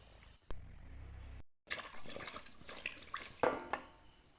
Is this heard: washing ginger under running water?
yes